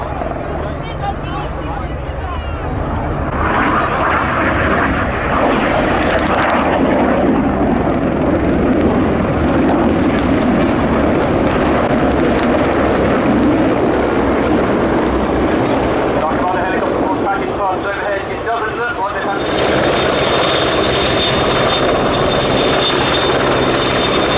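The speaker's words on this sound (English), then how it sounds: "2 Wildcats, a Hawk, and an Apache are coming over the horizon" Two Wildcat helicopters, an Apache helicopter and a Hawk jet pass over at the Yeovilton International Air Day 2016 air show, with loud rotor and engine roar and a jet whine rising near the end, under continuous commentary.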